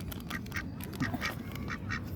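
A duck quacks close by outdoors, a run of short nasal quacks repeating in quick irregular succession over a steady background rumble.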